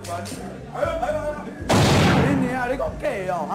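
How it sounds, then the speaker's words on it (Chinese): A single handgun shot fired into the air cracks out loud and sudden midway, cutting through heated shouted talk between men in a Taiwanese gangster film scene. "直到阿国对空鸣枪"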